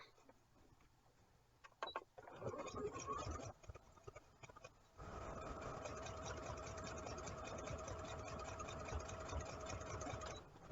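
A sewing machine stitches a seam in T-shirt fabric for a raglan nursing tee: a few short, halting bursts come first, then a long, steady, close whirring run that continues to the end.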